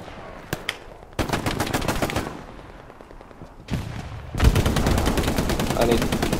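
Heavy gunfire in the Hell Let Loose World War II shooter, with close, loud bursts of rapid automatic fire and scattered single shots separated by short lulls, sustained near the end.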